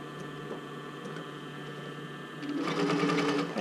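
A sewing machine stitching fabric for a bra: a low steady hum at first, then louder rapid rhythmic stitching near the end.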